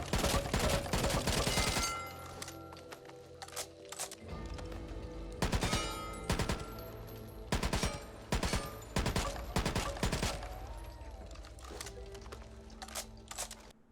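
Scar assault rifle fire in the zombie shooter Back 4 Blood: loud bursts and rapid volleys of gunshots, sometimes clustered and sometimes single cracks, separated by short quiet gaps with faint clinks of handling.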